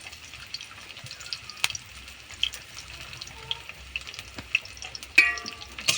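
Chopped onions sizzle in hot oil in a pan, a faint crackling fry with scattered pops and occasional stirring clicks, fairly quiet and close.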